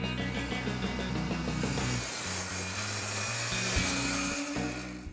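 A saw cuts a wooden rib to length in a workshop, giving a steady, loud rasping and grinding that runs continuously for several seconds with a shifting low hum underneath, then trails off.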